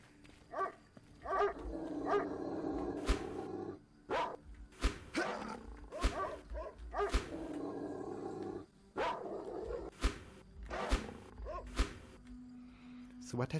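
Dogs barking in the video game Dark Skies 2, an alpha build made in Game Guru: repeated sharp barks and growls, some roar-like, spaced irregularly across the scene at moderate volume with a low ambient hum underneath.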